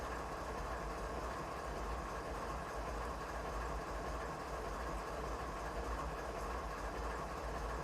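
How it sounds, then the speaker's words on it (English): A train engine runs in the Train Simulator 2019 video game on a Canadian mountain pass during yard work. It gives a steady, even rumble and drone throughout with no talking. "It's the train."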